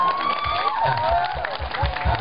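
A crowd applauds at a ceremony, a dense clapping wash that holds steady for a couple of seconds, with bright whistling or music-like tones weaving through it.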